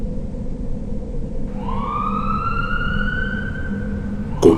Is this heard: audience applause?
no